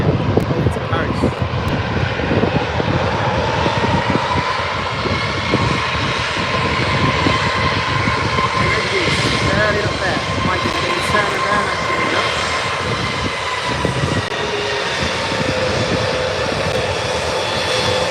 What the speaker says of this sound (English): Beautiful A320 there, yeah, over to Paris.